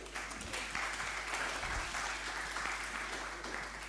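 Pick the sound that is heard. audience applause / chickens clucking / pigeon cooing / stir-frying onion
audience applause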